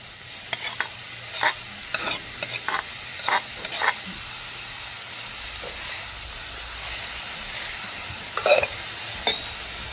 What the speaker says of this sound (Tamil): வெங்காயம் கொஞ்சம் பதங்கி வந்துட்டது காளானை சேர்க்கிறேன்